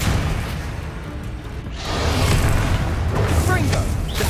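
Expelliarmus spell effect in Hogwarts Legacy during a duel, a deep booming whoosh that swells and sustains with a rumbling low end, layered with other spell impacts and some voice.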